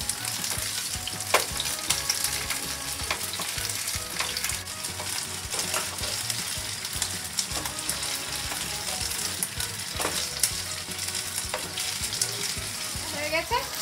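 Hariyali kebabs fry on a hot tawa with a loud, constant sizzle, punctuated by occasional sharp scraping and clicking as they are handled and turned.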